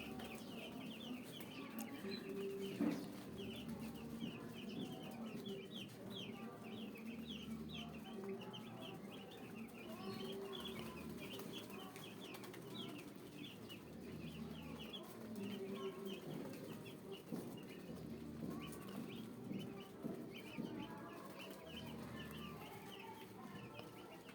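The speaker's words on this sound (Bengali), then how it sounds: "একশোটা মুরগির বাচ্চা নিয়ে এসেছি" About a hundred broiler chicks cheep constantly in a busy, high-pitched chorus, with occasional soft clucks and rustling beneath.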